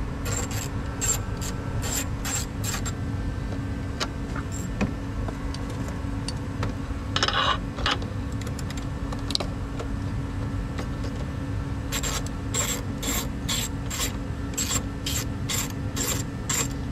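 A ratchet clicks in quick repeated strokes while removing bolts from the high voltage lines of a Toyota Prius hybrid battery, heard close up in two bursts at the start and end with quieter handling and scraping between.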